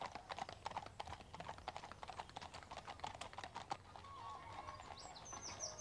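Horse hooves clip-clop along a woodland path in a quick, steady run of sharp, close knocks that thins out and softens toward the end.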